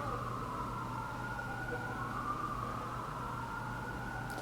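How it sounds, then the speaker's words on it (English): An emergency vehicle siren wails faintly in the distance, holding a steady rising and falling tone for several seconds over low traffic rumble, with no talking. "I want that siren to go by."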